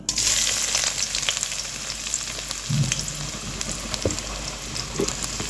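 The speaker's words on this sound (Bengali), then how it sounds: "পেঁয়াজটাকে এখন একটু নেড়ে চেড়ে ভেজে নেব" Chopped onions fry in oil in a pot with a loud, close, continuous sizzle and occasional stirring knocks, no talking.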